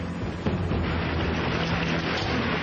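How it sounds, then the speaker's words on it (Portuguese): A hailstorm with heavy rain and thunder gives a dense, steady roar of pounding precipitation, loud and unbroken throughout, with no voices. "Jim Leonard capturou em filme esta chuva de granizo em 89"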